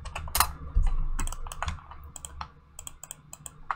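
Quick, uneven bursts of typing on a computer keyboard while naming a part in Roblox Studio, crisp close key clicks with short pauses, no voices.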